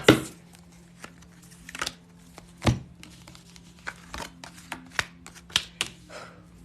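Tarot cards being shuffled by hand, heard as quiet, irregular snaps, taps and riffles close by with short pauses between them, no talking.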